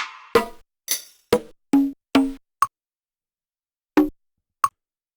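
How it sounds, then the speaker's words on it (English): Short percussive samples triggered on a Teenage Engineering EP-133 KO II sampler, ending in bright, pitched cowbell-like tonks: about eight dry, close hits, the first few quick and then more sparse with gaps of silence. "Little cowbell sound was quite pretty."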